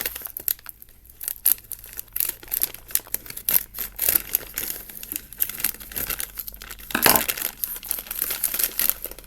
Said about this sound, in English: I better reach over here and get my scissors and just go ahead and open that.